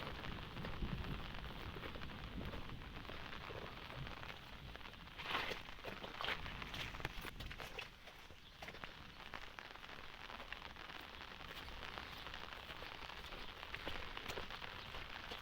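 Sudden steady rain patters densely on surfaces throughout a walk through a Turkish village, a constant close hiss of drops with a few brief louder bursts and no voices.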